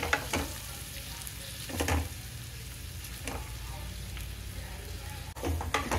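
Green chillies and onion-based poori curry sizzling and frying in a pan, a steady hiss with a few soft stirring scrapes, close and moderately loud with no talk.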